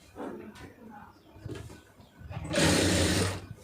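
A home sewing machine stitches fabric. Quiet handling and a voice come first, then a steady mechanical whir of running stitches takes over for about a second near the end.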